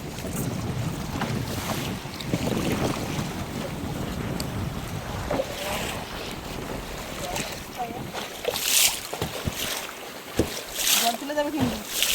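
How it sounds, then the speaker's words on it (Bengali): Storm wind and waves buffet a small fishing boat in the Sundarbans, with a loud, continuous gusting roar and bursts of splashing water against the hull. A voice is heard now and then under the noise. "এক একবার নৌকায় জল তুলে দিচ্ছে এত তুফান হচ্ছে"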